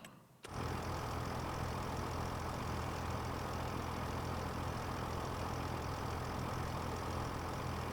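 Tractor engine in Farming Simulator 25 running steadily and loud, a constant low droning rumble that starts abruptly after a brief quiet moment and holds unchanged to the end, with no talk over it.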